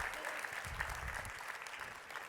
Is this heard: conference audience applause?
yes